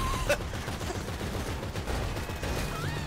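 Rapid, continuous gunfire in the open-world game GTA V, a dense barrage of shots at steady volume throughout, with occasional game sound effects mixed in.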